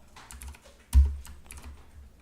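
A single firm keypress on a computer keyboard's Enter key stands out near the middle, surrounded by softer, quicker key taps at close range.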